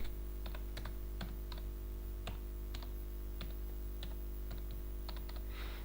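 Someone types on a computer keyboard while filling in an online application form, producing sparse, irregular key clicks and taps against a steady low electrical hum, close up and with no one talking.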